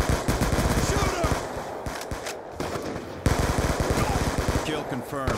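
Rapid automatic gunfire in the shooter Black Ops 2, loud sustained bursts with brief gaps and a sharp jump in level partway through, steady rattling rounds throughout.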